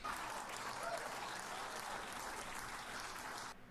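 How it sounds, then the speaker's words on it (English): A studio audience applauds in a fairly faint, continuous burst of clapping that stays even for a few seconds, then cuts off abruptly. "What are you clapping for?"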